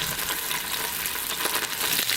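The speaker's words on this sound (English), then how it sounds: "and we're going to fry it for another 30 seconds" Green onions and leeks fry for a stock, a dense, even sizzle with light crackles, heard up close and without voices.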